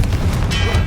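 A Confringo blasting spell detonates in Hogwarts Legacy, a loud, deep, sustained boom that fills the whole moment with rumbling low-end energy.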